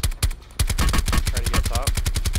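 Rapid automatic gunfire in Call of Duty: Blackout, a fast rhythmic string of close, sharp shots with a brief gap near the start, then continuous bursts.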